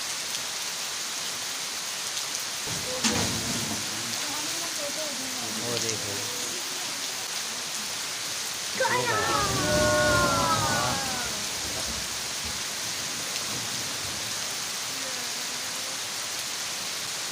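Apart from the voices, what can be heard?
torrential rain falling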